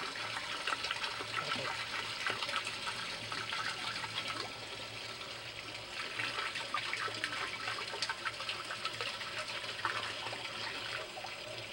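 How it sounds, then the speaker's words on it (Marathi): Steady rushing stream of water pouring into a bottle, continuous and fairly close, with a bright splashing hiss and no talking. "बाटलीत परत थोडंसं पाणी घ्यायचं आणि मिसळून घ्यायचं"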